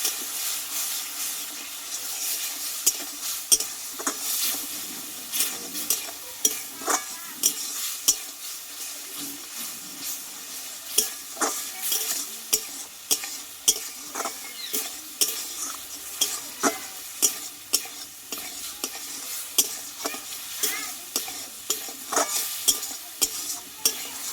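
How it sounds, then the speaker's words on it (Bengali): Spice masala for a taro (kochu) curry sizzles and fries in a pan, with a steady hiss and repeated close scraping strokes of a stirring spoon throughout. "মশলাটা মিশিয়ে ভালোভাবে কষিয়ে নেবো"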